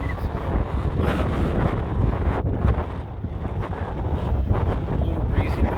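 Breezy wind buffeting a microphone outdoors, a loud continuous rumbling roar with gusty swells and no other clear sounds.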